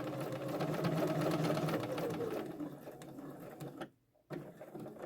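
A sewing machine stitches a waistband next to an invisible zip, running in a fast, steady, close whir for a few seconds. It slows and fades, stops briefly, and then gives a couple of short bursts.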